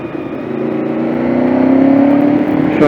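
A Honda VFR750 motorcycle accelerates on an open road ride, the engine rising steadily in pitch and loudness, close-up and continuous for a few seconds.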